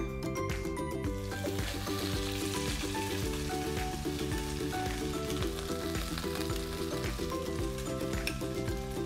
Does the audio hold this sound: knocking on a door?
no